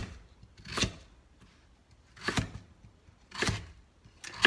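A knife cuts beets into thin slices for borsch, three or four distinct crisp chops spaced about a second apart, close and clear with quiet between them.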